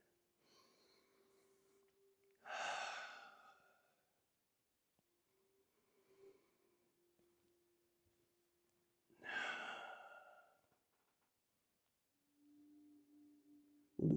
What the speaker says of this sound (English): So we're breathing in.